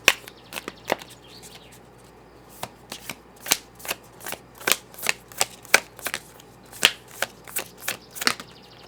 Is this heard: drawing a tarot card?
yes